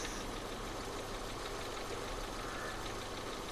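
A rototiller engine in the Farming Simulator 22 video game runs steadily at a vineyard, a continuous knocking, idling drone with a dense, even rumble that holds at constant loudness throughout, with no talk over it.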